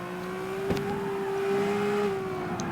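A tuned 32R car drifts in the street racing game CarX Street, holding a steady, high engine whine with tire noise underneath and no speech.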